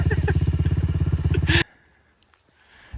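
A pit bike engine chugs loudly and close by on ice-covered mountain ground, its rapid regular firing pulses running for a second and a half before cutting out abruptly, leaving near silence and faint rustles.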